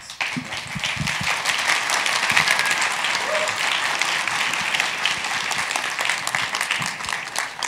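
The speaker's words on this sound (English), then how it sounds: "this is the best round of applause that we've had." A conference audience bursting into applause after a talk, a loud, dense patter of many hands clapping steadily in the room, with a few nearer distinct claps at the start.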